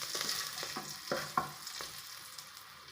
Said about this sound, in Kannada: ಫ್ರೈ ಮಾಡೋಣ